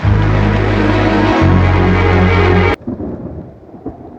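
Heavy rain pours with a deep rolling thunder rumble in a Telugu movie scene, loud and steady, then cuts off abruptly to quieter background.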